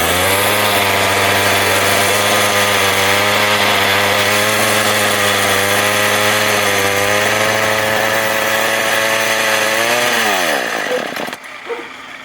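Craftsman weed eater with a suspected dirty carburetor, its small two-stroke engine buzzing loud and close at a steady high idle, then winding down and cutting out near the end.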